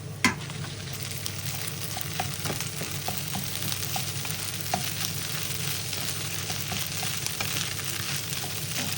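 Chashu fried rice with onion and cooked rice being stir-fried in a pan, a steady loud sizzle with repeated scraping and clacking of the spatula, no talking.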